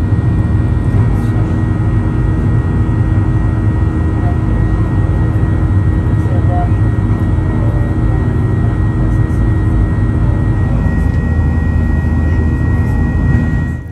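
Steady, loud cabin roar inside a Virgin Australia airliner banking sharply left just after takeoff from Cairns: a continuous low engine and airflow rumble holds level throughout with a faint high whine on top.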